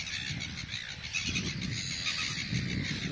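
Seagulls call at a coastal albatross centre in Dunedin, a busy flock heard as repeated high cries against steady wind and low rumble, moderately distant and continuous throughout.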